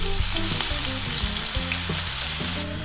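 Eight garlic cloves drop into a hot frying pan and sizzle loudly and steadily, a bright continuous crackle with bumps and scrapes of stirring underneath, close up and without speech.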